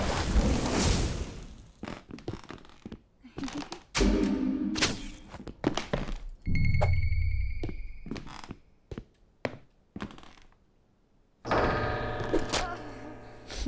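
Axe blows land on an enemy in the horror game Withering Rooms, a series of heavy thunks and thuds in bursts separated by short quiet gaps, with some ringing game effects between hits.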